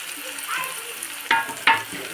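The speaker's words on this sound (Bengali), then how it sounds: "এখন কিন্তু আমি এটাকে নাড়বো, নেড়ে বাদামি কালার করবো।" Chopped onion and garlic frying in a pan for a leafy greens dish, a steady close sizzle broken by two sharp scrapes of stirring.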